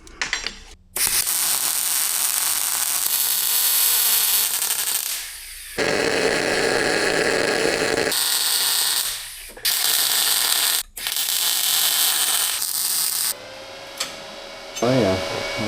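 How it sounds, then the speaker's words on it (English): MIG welding a bead in synergic mode with a Sefaspe MIG 200 PRO welder, a loud steady crackling hiss that runs in several long bursts with brief pauses between them, close up. "We'll try MIG first. Clean up a section, see how this runs a bead."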